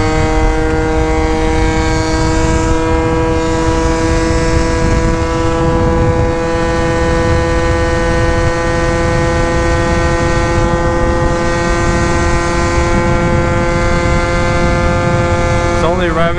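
A 70cc Yamaha Zuma scooter engine drones loudly at a steady high pitch, held at full throttle for a long stretch with only slight wavering.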